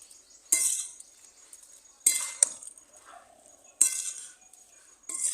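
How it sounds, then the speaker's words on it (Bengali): Metal lid clanks onto a pot of tomatoes set to boil, several sharp clinks and rattles spaced about a second apart, each ringing briefly before fading into quiet, close and alone. "এবার এটা ঢাকা দিয়ে ভালো করে সেদ্ধ করে নেব"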